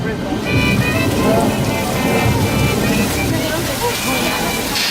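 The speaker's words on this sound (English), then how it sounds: "That rain is an overhead sprinkler shooting water straight up into the air, so it falls down naturally to the ground." Artificial rain from an overhead sprinkler on the Universal Studios Hollywood tram tour, a loud, steady hiss of water falling and splattering around the tram from start to finish.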